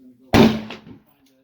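A single sharp report from a custom 6.5 Creedmoor rifle on a calm outdoor range, a loud close crack with a short decaying tail, preceded and followed by quiet.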